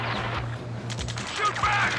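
Rapid bursts of gunfire in Ace Combat 7, a steady chattering rattle with low thumps, partly under shouted radio voices.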